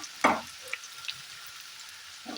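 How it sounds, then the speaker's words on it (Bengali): Garlic pieces dropped into frying onions in a pan, a sharp sizzling burst followed by a quieter hiss and a few small pops, close and brief with no speech. "এই অবস্থায় আমি দিয়ে দেবো রসুনের টুকরো"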